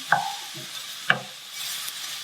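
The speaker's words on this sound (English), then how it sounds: "Stirring it as we do. Make sure it doesn't burn on the side." Onion and garlic sizzling in a pan while a spoon stirs them, with two distinct scraping knocks over a steady hiss.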